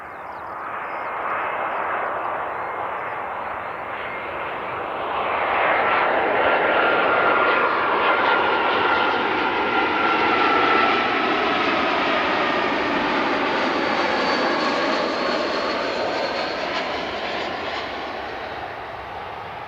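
A Jetstar airliner's jet engines roar loudly and steadily as the aircraft passes, the broadband rumble swelling in the middle and easing slowly toward the end, with no one talking.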